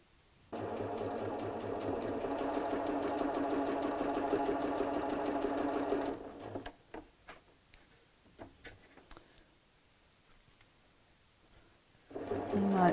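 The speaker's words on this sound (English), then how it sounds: "I'm sewing straight down the centre of the rickrack" A sewing machine runs at a steady, fast clatter for several seconds while stitching rickrack trim onto fabric for a bolster cushion, then stops, leaving scattered clicks and handling taps before the motor starts up again.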